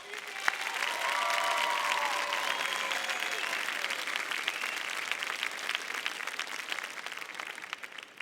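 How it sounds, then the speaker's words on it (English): A large crowd applauds parents and grandparents at a high school commencement, steady continuous clapping at a distance, faint voices or a brief tone heard early under it. "let's give your parents, grandparents, and significant others a nice round of applause"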